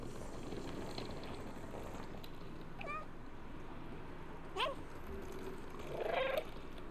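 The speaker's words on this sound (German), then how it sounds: "Kann man jederzeit machen, das Miauen." A cat meows in the video game Stray: a few short, distinct meows rise over a steady, hissy ambient background, the clearest two arriving near the end.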